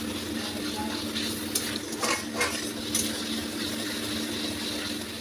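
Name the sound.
stirring and frying spice paste of cumin, turmeric, cashew, poppy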